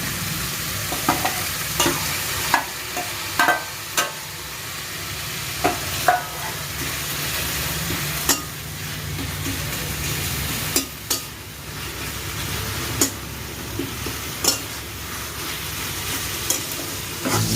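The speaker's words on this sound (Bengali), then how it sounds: "পেঁয়াজটা আমার অল্প ভাজা ভাজা হয়ে গেছে এর মধ্যে আমি আদা কুড়ানো যেটা রেখেছিলাম সেটা এবারে দিয়ে দিচ্ছি" Onion frying with grated ginger in a pan, stirred with a utensil: a steady sizzle runs throughout, broken by repeated sharp scraping clicks at irregular intervals, close and fairly loud, with no talk.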